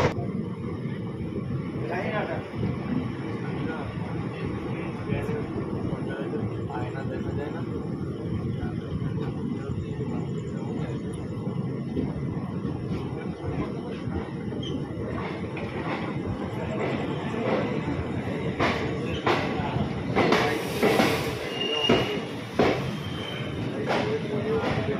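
Sealdah–Saharsa Hate Bazare Express standing at Khagraghat Road station, heard from a sleeper-class coach: a steady, dense rumble of platform and carriage noise runs throughout, with people talking continuously over it.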